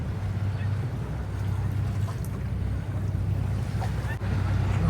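A boat with four big outboard motors motors backwards away from a wharf in the Bay of Islands, giving a steady low engine drone under wind and water noise throughout.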